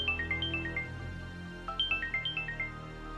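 A phone ringtone plays late at night in a Hindi television drama, a repeating electronic melody of quick descending chirping notes, two rings separated by a short gap, clear and moderately quiet.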